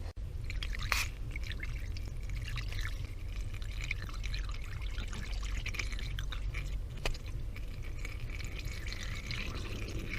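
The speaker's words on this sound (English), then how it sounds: "then we can top the coolant up to the top" Coolant being poured into the cooling system of a Toyota Yaris during a water pump replacement, a faint steady liquid pour with a few small drips and clicks, quiet and continuous.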